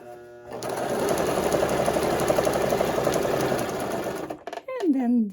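A Brother LS 2125 sewing machine stitching a buttonhole tack-down, a close, steady rapid whirr lasting about four seconds, then stopping as a voice begins speaking.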